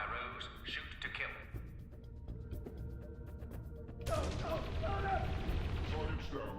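Gunfire in the video game Dreamfall Chapters, a dense burst of shots thickening near the end over steady game ambience, with voices talking under it.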